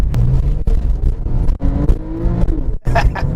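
Porsche 911 Carrera GTS engine revving hard through quick PDK paddle shifts, loud and close, with rising engine notes cut by abrupt gear changes and a sharp crack near the end.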